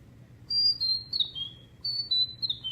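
Two short runs of high, descending whistled bird-like calls, each a few quick chirps sliding downward, fairly clear over a low background hum. A person whistles an imitation of a bird heard in Kentucky.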